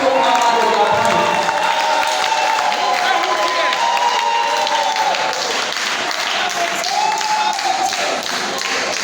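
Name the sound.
audience clapping at a debate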